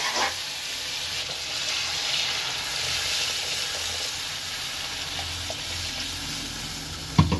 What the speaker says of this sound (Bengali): আন্দাজ মতো পানি অ্যাড করে দিলাম রান্নার জন্য